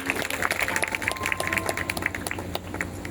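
A church congregation at a Punjabi healing-testimony service breaks into loud, sustained applause, dense clapping filling the room steadily with a few sharper bursts and no talk over it.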